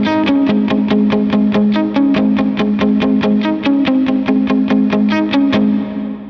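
Electric guitar plays a verse part from a worship song through a distortion and effects patch on a Helix or POD Go, a fast steady stream of evenly picked, crunchy repeated notes with a shimmering effect, loud and alone until the sound fades.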